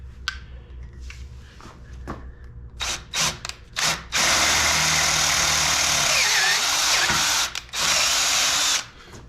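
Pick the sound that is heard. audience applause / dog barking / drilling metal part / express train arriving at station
drilling metal part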